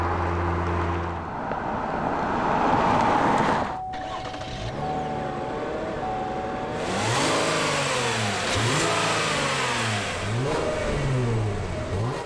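A 2017 Cadillac CT6 engine, a 3.6-litre naturally aspirated unit, idles steadily, then revs up and down in repeated surges, loud and close, with no talking.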